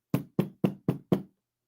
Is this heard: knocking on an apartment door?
yes